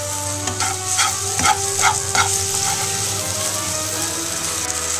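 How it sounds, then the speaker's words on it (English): Pancake sizzling and frying in a hot pan, with a few soft scraping and stirring taps as it is flipped, a steady close sizzle running throughout. "Once your pancake looks good enough to flip"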